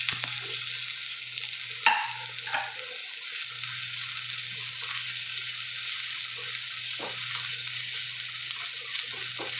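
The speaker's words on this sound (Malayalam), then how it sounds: "നമ്മൾ ഇളക്കിക്കൊണ്ടിരിക്കുകയാണ്, കാരണം തീ അത്യാവശ്യത്തിനുണ്ട്." Crushed garlic and ginger fry in hot coconut oil in a small non-stick pan: a steady, soft sizzle runs throughout, with occasional close spoon scrapes and taps as the mixture is stirred, and no talk.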